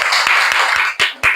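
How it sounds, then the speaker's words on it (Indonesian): A classroom of students clapping for a group that has just presented its discussion, a short burst of close, dense applause that drops away and returns in two brief swells. "Kasih tepuk tangan dulu."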